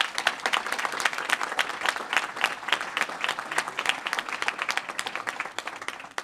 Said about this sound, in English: I want to give you all a round of applause again for all the work you do.